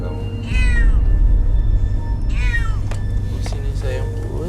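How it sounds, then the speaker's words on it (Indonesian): A house cat gives two or three drawn-out meows over a low, steady background rumble, fairly close and loud. "Tolong jauhkan kucing itu."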